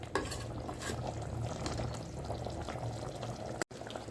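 A pot of Kolhapur-style mixed vegetable curry (bhogi bhaji) bubbles at a steady rolling boil, a continuous close, moderately loud simmering hiss with faint liquid churning and no talking.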